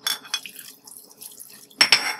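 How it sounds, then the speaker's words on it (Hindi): Half a glass of water poured into a pressure cooker holding mutton and spices for kabsa, a short close splash and trickle that ends in a louder burst near the end, with no talk. "और डाल देंगे आधा ग्लास पानी"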